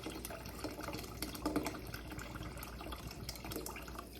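Half a can of fizzy drink is poured into a glass, a faint steady liquid trickle with light splashing and bubbling, quiet and continuous with no talking.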